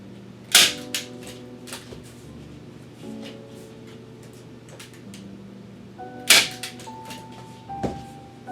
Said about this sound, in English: just staple those corners together